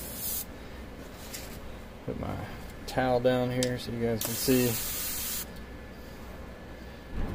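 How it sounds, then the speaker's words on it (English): An airbrush sprays Contrast Blood Angels red paint onto the armor panels of Adeptus Mechanicus Serberys Sulphurhounds miniatures: two short, close hissing bursts, with someone speaking between them. "Contrast go through the airbrush real nice"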